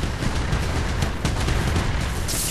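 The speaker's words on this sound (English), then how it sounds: "Ow, ow, they're shooting at me now." Enemies shooting in a video game, a dense, loud burst of gunfire and booms lasting a couple of seconds, with no talking.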